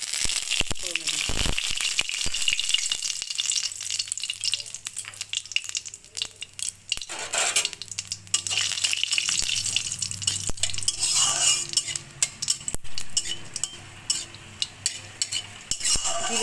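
Dried red chilies, bay leaves and cumin seeds hit hot oil for tempering, a sharp sizzle with crackles, spatula scrapes and pan rattles. A voice talks in parts underneath.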